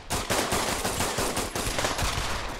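In Pavlov VR, a pistol fires round after round in a rapid, even string of loud, close shots, roughly four per second, with no talking.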